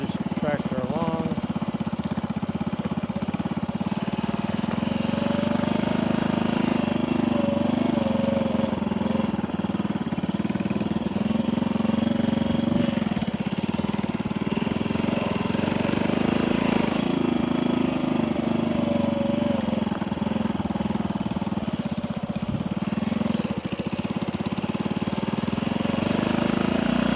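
A vintage 1964 Honda C200 motorcycle engine running steadily, a constant droning putter at moderate volume with little change in pitch throughout, heard close by.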